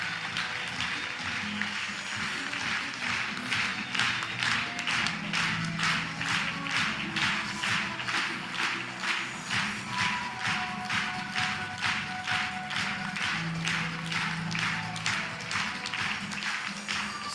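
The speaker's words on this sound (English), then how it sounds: "Give me a proper round of applause." Seminar audience applauding steadily, dense rapid clapping from many hands sustained throughout at an even, fairly loud level with no talk over it.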